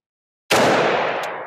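A single 5.56 AAC 69 grain HPBT rifle round fired during bullet speed testing, with an 11.5 barrel mentioned nearby. It sounds as one loud, close, sharp crack that rolls off into a long, fading tail.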